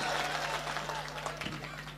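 An audience at a Hindi comedy poetry gathering claps in a dense, continuous burst that slowly thins out, with no speech over it.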